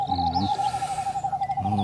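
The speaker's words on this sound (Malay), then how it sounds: "Tiba-tiba bunyi burung hantu." Owl hooting at night in a Malaysian telefilm, two low hoots separated by a pause over a steady high hum, close and clear.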